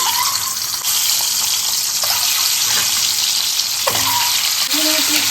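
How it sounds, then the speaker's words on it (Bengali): Eggs hit hot white oil in a kadai wok, bursting into a loud, continuous, crackling sizzle that stays close and dense throughout with no talking. "তেলটা গরম হয়ে গেছে, ডিমগুলো দিয়ে দিচ্ছি"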